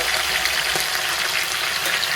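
Green chilli, curry leaves and fenugreek frying in hot oil for a tempering, producing a steady, close hiss of sizzling with no talk.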